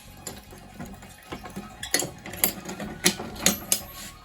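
A fire alarm pull station being reset gives a series of sharp mechanical clicks and rattles, close and irregular, growing louder toward the end.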